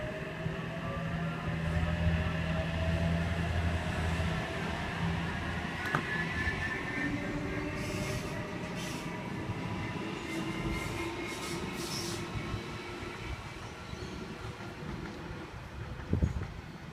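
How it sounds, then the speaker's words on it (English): A Sydney Waratah electric train passes through platform 4 of a suburban station, its steady rumble and rail noise holding for the whole stretch with faint squeals and clicks of the wheels, moderately distant. "We've got a Waratah passing platform number 4."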